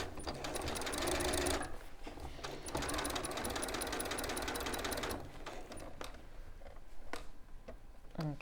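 Sewing machine stitching long seams through thick coat fabric, a fast steady mechanical rattle in two long runs with a pause between, followed by quieter clicks and handling noises.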